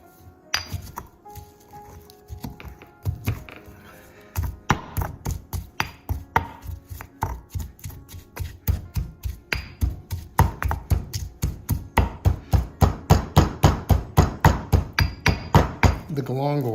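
Galangal is pounded into red and yellow curry paste with a long run of sharp, rhythmic thuds that start sparse and irregular, then speed up into a fast, steady, loud beat.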